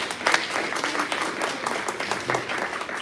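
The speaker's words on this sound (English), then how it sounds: "We give them all a round of applause so far." Congregation applauding students at a Tu Bishvat seder service in a temple, dense continuous clapping from a sizable group, fairly close and steady for the whole stretch.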